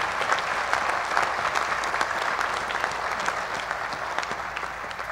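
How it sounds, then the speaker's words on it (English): A large crowd at a medical school graduation ceremony claps steadily, a continuous, even wash of applause heard from a distance with no pauses. "Again, a round of applause for yourselves today and your remarkable achievements."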